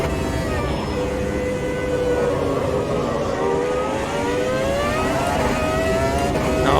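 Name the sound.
F1 V10 car engine racing flat out, Automobilista 2 video game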